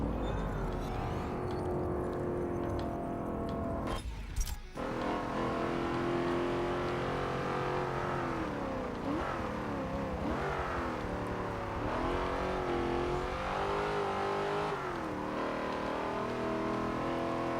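Race car engine in Forza Motorsport 7, droning steadily and revving up and down as it brakes and accelerates, with one brief break around the midpoint.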